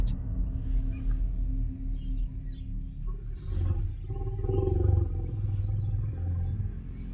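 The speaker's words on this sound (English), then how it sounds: "The lion roars gently, sending a shiver up the man's spine as the two make direct eye contact." A lion roars in the wild at campers who have come too close, a deep rumbling growl that swells louder toward the middle and continues steadily without voices.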